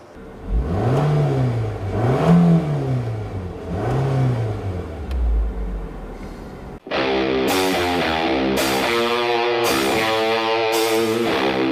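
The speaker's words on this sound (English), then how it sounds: "it's bad for the car to redline it when it's not in gear" A 2014 Nissan Altima engine revs hard to redline three times in a row in neutral, pitch surging up and falling back, then settles into a loud, steady high drone.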